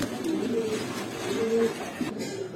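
Sabchila pigeons with red feathering coo softly in a low, continuous murmur, a few overlapping birds close by in a steady hum of pigeon sounds.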